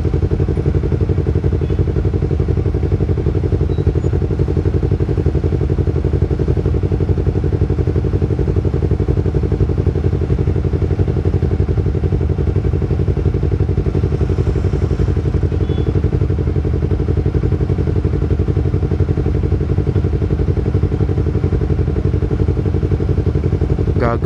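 A Benelli TNT250 motorcycle runs close and loud with a steady droning engine note that holds throughout. Wind and rumble sit underneath, and nobody talks.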